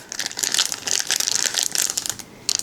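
A small plastic bag crinkles and crackles continuously at close range while a tarot deck is unboxed, with quick handling rustles, no talking.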